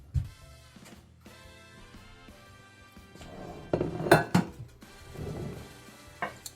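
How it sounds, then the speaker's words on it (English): A dish is taken from a kitchen cupboard, with faint clinks and a few sharper knocks of crockery and cutlery in a quiet room, louder knocks clustering toward the middle. "So let me grab a dish because we'll put it on a dish when it's all breaded and everything."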